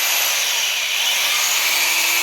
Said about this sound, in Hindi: अब ये 800 वाट की ड्रिल है